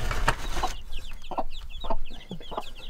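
Chicks cheeping in a Russian village yard, a steady run of high peeps close by, mixed with lower clucking from hens.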